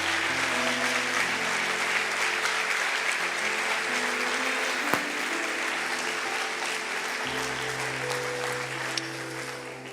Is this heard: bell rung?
no